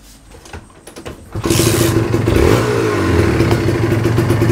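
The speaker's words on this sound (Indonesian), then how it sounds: "kita dengerin suara motor ini kayak gimana" Close by, a two-stroke Kawasaki Ninja motorcycle with a slightly weak battery and carbon buildup in the compression ticks and clatters faintly, then is revved up hard and holds a loud, raspy, steady engine note with a brief pitch swing.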